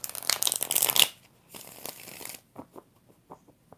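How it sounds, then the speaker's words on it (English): Tarot cards are shuffled up close in a quick riffling burst, followed by softer sliding and a few scattered taps as the deck settles. "One more shuffle."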